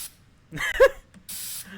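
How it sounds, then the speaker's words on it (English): Spraying a suit in a horror video game, heard as a short burst of aerosol hiss alongside a brief game voice. "So go ahead and start spraying the suit, making sure that no electronics were left inside of the suit after removal."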